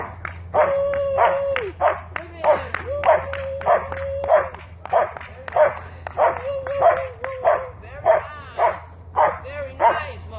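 Dog barking on command during basic obedience training, a series of repeated sharp barks in an uneven rhythm, close and clear, with some whiny yips mixed in.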